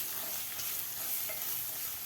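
Ginger garlic paste sautéing with spices in a kadai for egg biryani gives a steady, soft sizzle and hiss throughout, fairly quiet and unbroken, with no talking.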